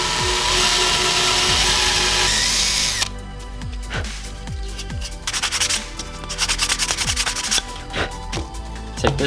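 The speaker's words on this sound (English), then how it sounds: "Drill a 3/8 inch hole." A power drill whines loudly and steadily for a few seconds while boring a 3/8 inch hole, then stops and restarts in short bursts with rubbing and clattering between.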